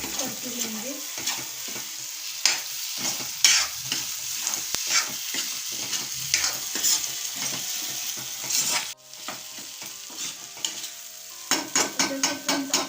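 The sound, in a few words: egg chutney being mixed and fried in a pan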